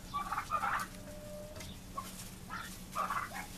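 Backyard chickens and turkeys clucking in short bursts, a few clustered calls spaced across the stretch, moderately close and fairly quiet over a low background hum.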